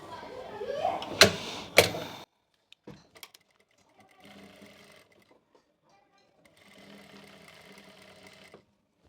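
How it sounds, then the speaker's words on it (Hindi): A sewing machine stitches a seam joining the panels of an Anarkali kurti, with two short, faint runs of mechanical whirring after a few sharp handling knocks near the start. "इस तरह से करते हुए हमें पूरी लेंथ के अंदर सिलाई लगा लेनी है।"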